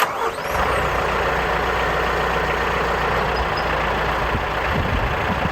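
Truck engine running steadily at close range while being put into gear, a continuous low rumble with a rough mechanical texture and no speech over it.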